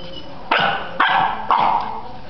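Three sharp, high-pitched barks from small dogs come in quick, evenly spaced succession, each one close and loud.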